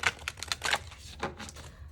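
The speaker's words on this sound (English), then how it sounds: "So as I speak, I'm going to shuffle some oracle cards for you" A deck of oracle cards is shuffled close by, a quick series of papery riffles and flicks at an uneven rhythm, soft and crisp.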